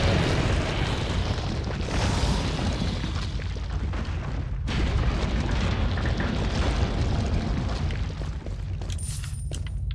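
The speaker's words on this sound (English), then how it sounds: "So pull out your rocket launcher." Rocket launcher explosion in Resident Evil 4 during a final boss phase, a huge sustained blast with a deep rumbling roar that rolls on for seconds, loud and close, then fades into crackling debris.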